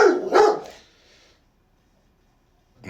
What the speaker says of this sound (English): that wasn't the bandit barking, that was my dog.